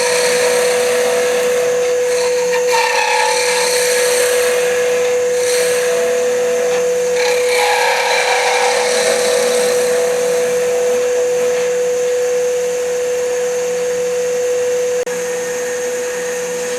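Wood turning on a lathe while a crochet hook is shaped, a continuous loud whirring hum with a steady tonal whine, overlaid by intermittent scraping and hissing as a skew chisel cuts into the spinning wood.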